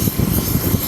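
An Antarctic Airways airplane's engine running close by on the ground, a steady, loud, broadband roar that holds without a break.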